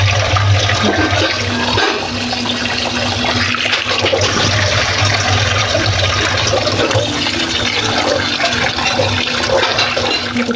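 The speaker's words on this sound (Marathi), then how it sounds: "मस्त खळखळच्या पाण्यात धुवून घेऊया" Indrayani rice and lentils being rinsed for baby food under strongly running water, a loud, steady gushing and splashing that fills the whole stretch without any talking.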